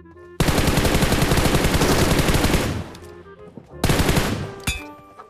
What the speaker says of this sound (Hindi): अरे भाई, इधर भी फायरिंग चल रहा है